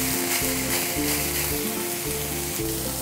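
A beef patty fries in a little olive oil with a constant, even sizzle and soft crackle, close by and steady throughout, while a background tone hums underneath.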